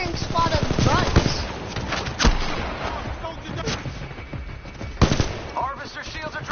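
Sustained automatic gunfire from grunt soldiers in the shooter Titanfall, dense rapid bursts with a few sharper loud cracks, continuous and close, with game speech mixed in.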